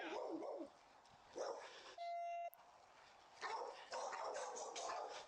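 A dog barks in a tense police confrontation, a few rough barks near the start and middle mixed with shouting, a steady electronic beep cutting in briefly, then more agitated barking and noise toward the end.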